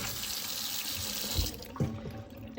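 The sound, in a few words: rinsing beans under running sink water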